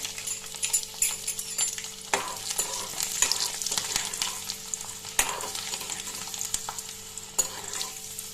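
Garlic cloves and hing sizzle in hot oil for a Gujarati dahi tadka, with a crackling frying hiss punctuated by sharp pops and the scrape of a stirring spoon, and no talking.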